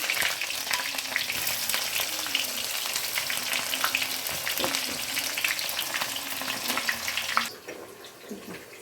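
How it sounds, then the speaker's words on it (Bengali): Onions crackle and sizzle loudly in hot oil with a dense, hissing texture, then the frying noise drops away abruptly near the end. "পেঁয়াজটা ভাজা হয়ে গেছে, লাল লাল হয়ে গেছে"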